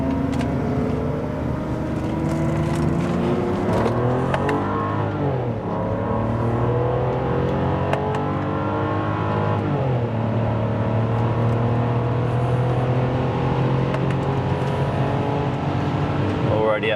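A car accelerates hard on the Nürburgring, engine tones rising through gear changes with brief dips between shifts, loud and close from inside the cabin, with some talk over it.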